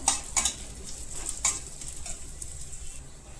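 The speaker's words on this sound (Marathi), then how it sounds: "ओलं खोबरं थोडं भाजत आलं का लाल झालं का" Grated fresh coconut is roasted in a pan while it is being made into a chicken rassa, giving a soft sizzle with a few quick scraping stirs near the start that then settle into a quieter hiss.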